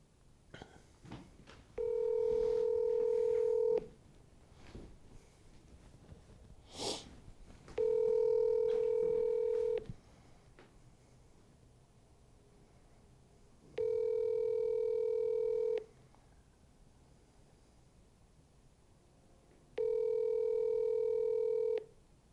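A phone call being placed: four long, loud steady ringback tone bursts about two seconds each, spaced evenly with quiet gaps and faint background noise between them.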